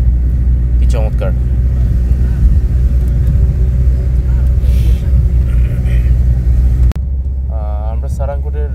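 A van engine drones in a steady low rumble while climbing a mountain road toward Sarangkot, loud and close from inside, with people speaking over it.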